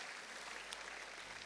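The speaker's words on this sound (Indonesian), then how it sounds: "Tepuk tangan, saudara." Church congregation clapping during a Sunday communion service, a brief, even, dense burst of applause with no break.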